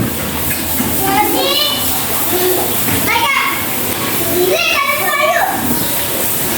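Children shriek and call out excitedly in a resort shower room in Lucena City, their high playful voices echoing over a constant hiss of running water, with bursts of squealing laughter rising and falling throughout.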